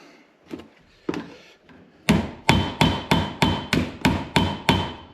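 A hammer riveting a Model T brake band on a 1927 Model T Speedster, with a few soft preliminary taps and then eight sharp, evenly spaced metallic blows, close and loud, no talk.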